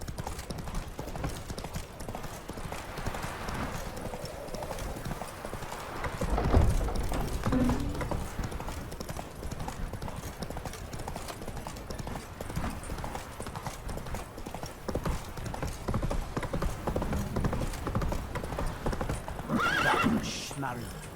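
Roach, Geralt's horse in the video game The Witcher 3, gallops with steady rapid hoof clip-clop and lets out a loud neigh, running beneath in-game character dialogue throughout.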